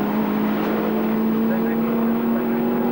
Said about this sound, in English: Michael overtaking Terry Davison.